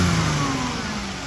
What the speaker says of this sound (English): Doesn't really have a stumble when revving.